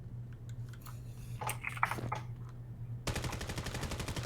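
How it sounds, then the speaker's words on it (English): Gunfire in the Valorant video game during a competitive match: scattered quiet shots and impacts, then a loud, rapid burst of automatic fire that runs to the end. "Walk getting shots at Pringles in the back there while Pringles is trying to push up onto site."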